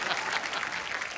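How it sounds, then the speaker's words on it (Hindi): Studio audience on The Kapil Sharma Show bursts into applause, a brief, dense wave of many hands clapping at moderate loudness. "और एक बार जोरदार तालियां अक्षय बाजी"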